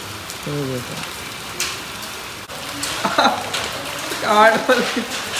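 Steady rain falls after a hailstorm in a rural Indian setting, a constant hiss of drops on surfaces, with people talking over it.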